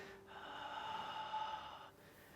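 One long, audible breath of about a second and a half is drawn during a slow qigong exercise, steady and close, with no talking.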